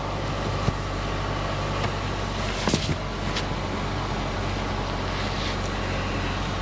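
A Lexus car idling steadily at an auction yard, its low engine hum continuous and fairly even with a few faint clicks and bumps, no talk.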